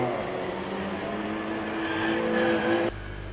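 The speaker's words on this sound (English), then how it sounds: "Watching the car from Lübeck make its way about halfway through the final lap" A Formula Student combustion race car from Lübeck runs its final endurance lap. A steady, fairly loud engine drone holds and rises slightly in pitch, then cuts off abruptly near the end, leaving a low background rumble.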